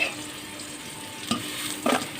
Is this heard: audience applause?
no